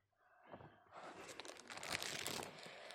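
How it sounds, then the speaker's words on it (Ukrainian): A plastic bag holding loom rubber bands and a crochet hook rustles and crinkles up close, building from a soft start into steady crackling handling noise with no voices. "Саме головне в моєму в'язанні це мій пакетик з в'язанням."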